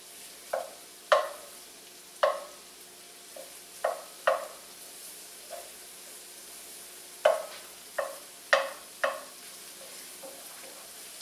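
Shallots cooking down in a pan give soft sizzling broken by about a dozen sharp stirring scrapes at irregular intervals, close and fairly quiet, with no talk.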